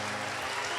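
Steady, dense applause from a campus audience welcoming an education minister at an entrepreneurship event, a continuous wash of clapping throughout the short span with no voice over it.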